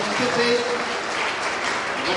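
Audience applause at an alumni association gathering, a dense continuous wash of clapping over the whole stretch, with a faint voice briefly mixed in.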